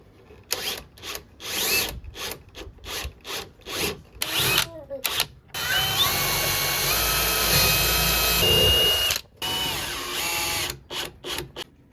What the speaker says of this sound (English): So I threw on some thicker or some longer screws just because there's gonna be some weight on this.